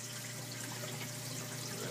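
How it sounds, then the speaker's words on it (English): Water spills over a lip into two 4-inch filter socks in an aquarium sump, a steady, close, hissing trickle that runs on without a break and with no voices. "It suspends itself and goes over this little lip here and into my filter sock area."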